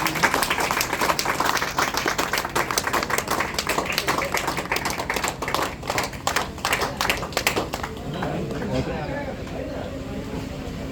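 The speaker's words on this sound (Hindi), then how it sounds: "जोरदार तालियों के साथ स्वागत कीजिए" Loud, dense applause and clapping from a crowd greeting guests onto the stage at a branch opening ceremony in Manjhiaon, sustained for about eight seconds before fading into lighter crowd noise.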